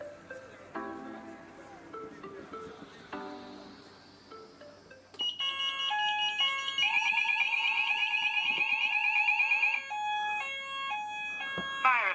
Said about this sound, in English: I'm happy with this uh, evacuation tone that we got